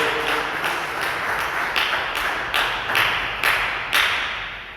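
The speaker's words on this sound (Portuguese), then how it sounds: "Dê uma salva de palmas bem alegre para Jesus." A church congregation claps in unison during an evening service, a row of sharp, evenly spaced claps, about ten of them, ringing in a reverberant hall at moderate distance with no talking over them.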